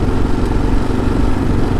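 A Kawasaki KLR650 motorcycle rides on a dirt surface, its engine a close, steady, rumbling drone with rattling and clatter throughout.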